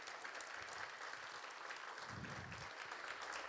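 An audience at a public safety awards ceremony claps for a bagpipe player, producing steady, moderately distant applause throughout with a faint murmur of voices beneath.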